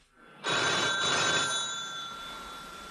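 A landline telephone rings indoors at home, a sudden loud, close bell-like ring that starts after a brief quiet moment and holds steadily, with no one talking.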